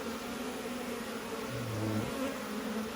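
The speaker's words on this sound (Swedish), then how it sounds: "vi har ju en del bin på gång i de här" Honeybees hum in a steady, dense drone around an open hive during a hive swap, a continuous close buzz with a brief lower-pitched pass from a nearby bee.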